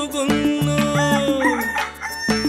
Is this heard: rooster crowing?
yes